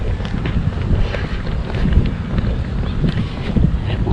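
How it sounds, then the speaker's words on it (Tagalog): Cool wind blowing steadily across an open lot in a garden subdivision, a constant low rumbling buffet against the microphone with slight gusts throughout. "Sarap ng hangin."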